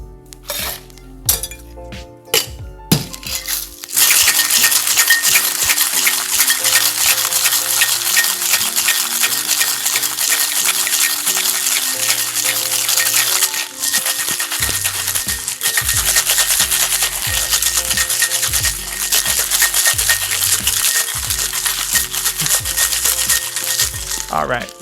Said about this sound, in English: let's add some ice and give it a shake